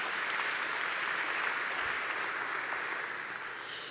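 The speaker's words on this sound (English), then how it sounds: "Can I get a round of applause for the organizing committee" An audience at a conference closing session applauds the organizing committee, a steady wash of clapping that holds evenly for several seconds before easing slightly at the end.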